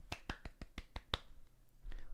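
Several soft, polite golf claps from a small group at a card table after a poker hand, a quick run of about seven separate claps, close and fairly quiet, then trailing off into low background noise.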